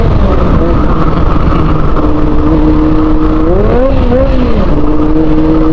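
A Honda CB400 motorcycle rides along the Dalton Pass mountain road in Nueva Ecija, its engine droning loud and close, then swelling in a brief rev midway before settling again, with constant wind rush.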